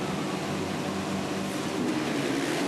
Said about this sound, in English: The revs are up.